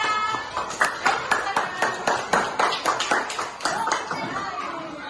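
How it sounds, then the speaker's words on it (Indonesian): Children in a classroom clap together in a rhythmic, patterned beat, about a dozen sharp unison claps spaced at steady intervals, with a voice and chatter beneath them. "Iya, pintar. Tepuk tangan."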